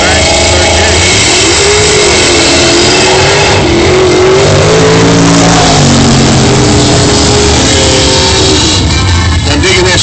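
Yellow Chevrolet Nova drag racing at a strip, its loud engine roaring and revving continuously for about ten seconds with rising and falling pitch, crowd and announcer talk mixed in underneath.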